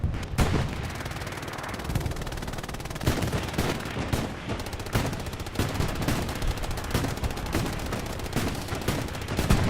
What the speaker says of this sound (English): Artillery strikes called up to the front line for Darkhorse